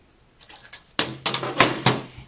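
Paper being cut on a trimmer for a Tim Holtz folio insert: a few faint soft scrapes, then a series of sharp crisp clicks and snips in quick succession, close by.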